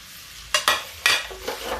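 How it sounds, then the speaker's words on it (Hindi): Fried potato and eggplant are stirred into a sizzling masala in a pan, giving a few sharp scraping strokes over a low frying hiss, close by. "ये आलू बैंगन जो मैंने फ्राई करके रखा था ये मैंने इसमें मिक्स किया है।"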